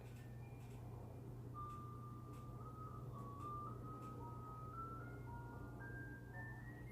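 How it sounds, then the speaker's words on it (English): An ice cream truck passes outside, its jingle of a simple stepped melody drifting faintly over a steady low hum, distant and continuous. "Hear that? The ice cream truck."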